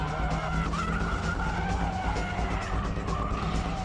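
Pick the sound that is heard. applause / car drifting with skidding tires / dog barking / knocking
car drifting with skidding tires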